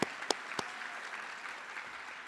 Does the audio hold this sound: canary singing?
no